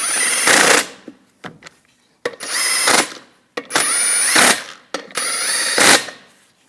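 Impact wrench snugging lug nuts onto the rear wheel of a 2015-2022 Chevrolet Colorado pickup, four loud close bursts of rattling hammering, each about a second long, separated by short pauses and small clicks.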